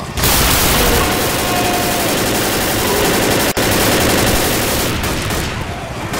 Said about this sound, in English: Yo, these shotguns do work on the tank.